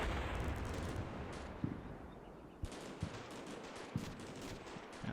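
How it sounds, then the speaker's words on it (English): 23mm cannon fire in Combat Mission Shock Force 2, heard as a distant rumbling barrage followed by a few scattered, muffled heavy shots at irregular intervals. "That's Atlas with a bit more 23mm fire there."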